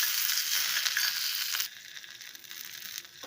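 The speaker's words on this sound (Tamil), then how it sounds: "உளுத்தம்பருப்பு, பொடி பொடியாக நறுக்கின இஞ்சி, கொஞ்சம் பச்சை மிளகா, கருவேப்பிலை, இது எல்லாத்தையும் போட்டு பொரிஞ்சிரும்" Urad dal, finely chopped ginger, green chili and curry leaves sizzle and crackle in hot oil, a loud dense fry that drops to a softer, steady sizzle partway through.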